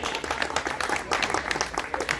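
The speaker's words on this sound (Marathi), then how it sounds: "जोरदार टाळ्या झाल्या म्हणजे त्याच्यासाठी." At a birthday celebration, a crowd breaks into brisk, sustained applause, many hands clapping together close by.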